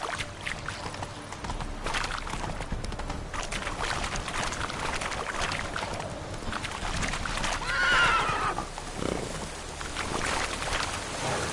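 Roach the horse neighs and gallops in The Witcher 3, with a whinny rising over steady hoofbeats against a busy background of game sound.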